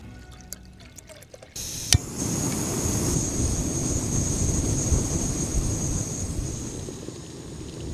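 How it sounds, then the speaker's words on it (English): A Jetboil camping stove lights outdoors with a sharp click, then settles into a steady, close hissing roar of burning gas that continues while it heats water for coffee, with no talk. "But I'm going to fire up the jet boil"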